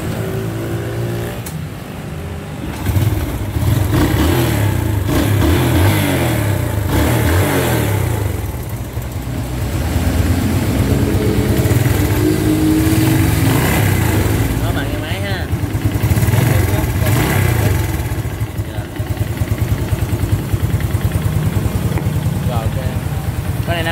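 A 2022 Yamaha Taurus motorcycle is kick-started and revved close by, its engine rising and falling through repeated loud bursts and idling between them, while people talk over it.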